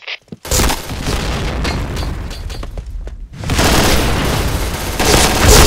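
Grenade detonating in the video game Crossfire: a sudden heavy boom after a brief quiet start, then a sustained loud roar of blast and gunfire that dips briefly and surges again.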